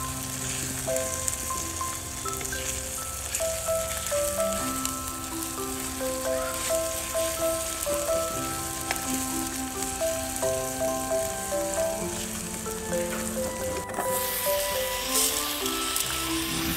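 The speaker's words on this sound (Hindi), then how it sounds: "इवे तेल गरम होगो तो जीरो और प्याज गेर दियो हमें" Cumin and onion fry in hot oil in a wok in a village-style kitchen, a continuous crackling sizzle running under background music.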